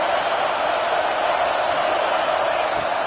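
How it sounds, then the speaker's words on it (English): A home crowd at a college football game roars steadily and loudly, a dense wash of cheering and whooping with no break, and speech mixed into the noise. "how nice is it to have the home crowd going absolutely bananas?"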